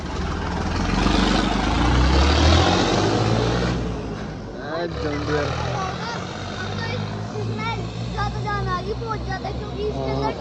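A tractor engine being tested for a tournament runs loudly at first with a heavy low rumble, then continues more steadily while people talk over it.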